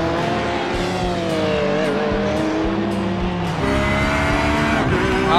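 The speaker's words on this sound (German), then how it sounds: "schmeißt sein Auto die Mauer" A GT3 race car in the iRacing sim at Bathurst, a steady loud engine drone with shifting pitch, a brief bump partway through as it strikes the wall, then the engine carries on.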